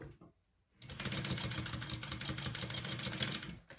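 A sewing machine bastes fabric pieces together for a Raelyn bag, running in one steady, close, rapid stitching burst after a brief quiet start, then stopping near the end.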